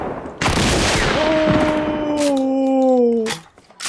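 Gunfire from a double barrel shotgun in a video game, with loud blasts at the start followed by sustained sound and a fading tail, as a gamer's session plays on.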